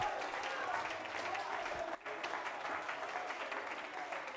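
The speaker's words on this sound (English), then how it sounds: "Clap your hands and give glory to God." A congregation at a healing ministry service in Antigua claps hands in a dense, sustained burst of applause, with voices mixed in.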